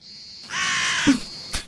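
A crow gives a single loud, harsh caw close by, drawn out for about a second, followed by a brief sharp noise.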